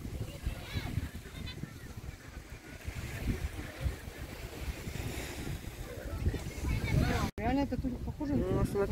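Boat arriving at Watamu beach, Kenya, heard amid steady wind buffeting and surf on the shore, with a voice talking over it throughout.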